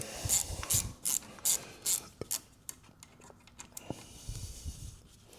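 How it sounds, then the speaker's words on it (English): A small wrench ratchets a bolt on the rear wheel of a Riese & Muller Load4 75 e-bike, giving several quick bursts of close clicking followed by quieter single ticks and light handling noise. "This little baby wrench can just fit back here."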